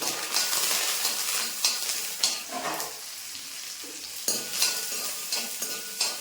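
Two sprigs of curry leaves crackle and sizzle in hot oil alongside browning onions and green chilies for a coconut chutney. Sharp bursts of spattering mix with a steady hiss and stirring scrapes from a nearby pan.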